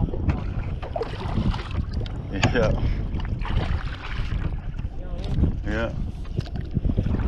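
Coleman Journey 15.6 canoe rocking and moving on water in a quarry: soft splashes and hull knocks mixed with wind buffeting the microphone, under close casual talk.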